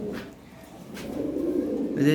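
European Lahori pigeons coo softly and repeatedly nearby on a farm, with a person talking over the low, rolling calls.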